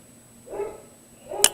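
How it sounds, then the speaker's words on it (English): Dogs barking indoors during a home livestream, a couple of short bark bursts at moderate distance, the second sharper and louder, with no talk over them. "The dogs are barking incessantly."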